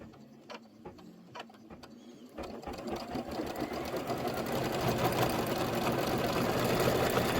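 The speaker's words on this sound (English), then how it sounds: "Return the hoop to the machine, stitch the taco shell outline and fold line." An embroidery machine runs steadily while stitching a taco shell outline and fold line on hooped fabric, a fast continuous rattling hum that starts after a few light clicks and grows slightly louder.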